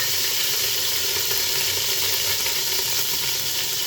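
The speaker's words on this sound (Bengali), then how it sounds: "এখন এখানে দুই চা চামচ পরিমাণ আদা বাটা দিই" Ginger paste frying in hot oil alongside fried onions, a loud, continuous, close sizzle with a steady hiss that stays even throughout, with no talking.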